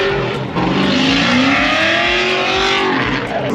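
A 600-horsepower BMW E36 drift car revs hard with a loud, sustained engine roar whose pitch rises and falls as the tires are driven, with no voices over the noise.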